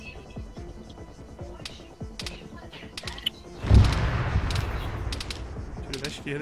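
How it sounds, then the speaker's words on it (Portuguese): Quick bursts of gunfire crackle at varying distances amid clicking, with one louder burst midway; the shots are game effects from Arma 3. "Tiro da esquerda, hein?"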